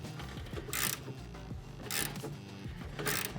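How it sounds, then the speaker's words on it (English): Ratchet wrench clicking as it loosens a sway bar end link nut on a car's suspension, steady mechanical ratcheting with a few louder bursts, close and alone. "you have to have your Allen key or ratchet on tighten and loosen your wrench"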